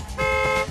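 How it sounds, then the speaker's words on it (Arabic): A driver sounds a car horn on a mountain road in Kerala: one steady, loud honk lasting about half a second. "عنا درايفر هون هاوي زمامير، بين الزمور والزمور بيعمل زمور"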